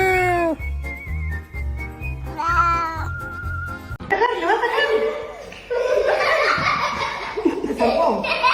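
A cat gives a run of dramatic, drawn-out meows, mixed with laughter and voices close by.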